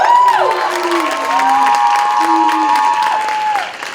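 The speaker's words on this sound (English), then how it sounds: "give them a round of applause" An audience at a university Latino pageant bursts into loud, close clapping mixed with high whooping cheers and shouts that rise and fall over a few seconds before fading slightly.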